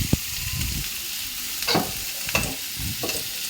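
Onions and curry leaves frying in a pan with salt, for a bottle gourd adai dosa, with soft continuous sizzling and several distinct stirring scrapes spaced through the clip; no one talks.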